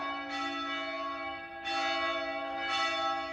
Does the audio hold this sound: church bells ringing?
yes